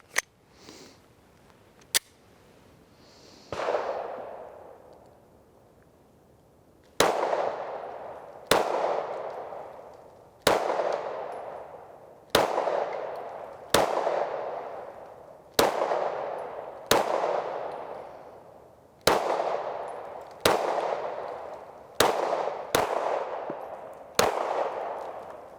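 Mossberg MC2C 9mm pistol fired from 13-round short and 15-round extended magazines: two faint early cracks, then a loud close shot, followed by a steady string of about twelve sharp reports with ringing decay, spaced roughly a second or two apart.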